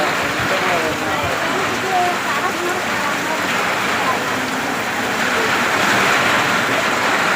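Heavy rain pouring steadily in a broad, constant wash with some wind noise on the mic, along a pilgrimage path in Tiruvannamalai, while a voice talks.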